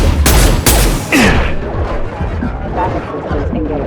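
Bursts of gunfire in the video game Mass Effect 2 open with a few loud, sharp cracks, then fade into a rumbling, echoing battle tail.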